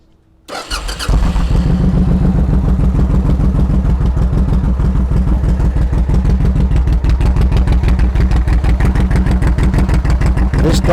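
A motorcycle fitted with a Cobra Fi2000 fuel module cranks briefly and fires up, then settles into a loud, close, steady pulsing idle.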